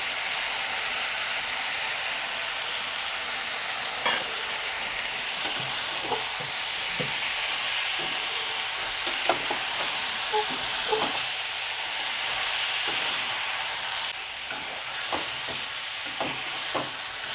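Chopped tomatoes sizzle in a hot pan for a spring onion greens mishali, a steady bright hiss with occasional soft clicks and stirring taps close by.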